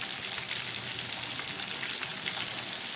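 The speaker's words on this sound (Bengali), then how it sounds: "এই ভেজে রাখা পেঁয়াজের মধ্যে আমি মাংসটাকে দিয়ে দিলাম।" Mutton pieces fry in a pan of previously fried onions, making a steady, close crackling sizzle that runs evenly with no talking.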